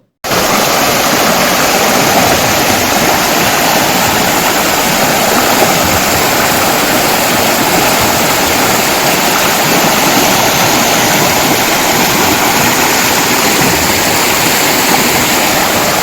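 Steady, loud rush of flowing river water at Kuruva Island, Wayanad, continuous and broadband with no pauses, filling the whole stretch without any voices.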